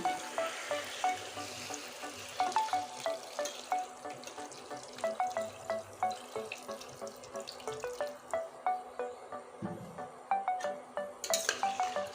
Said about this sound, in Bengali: এখানে জল দিয়ে দিচ্ছি ঝোল করার জন্য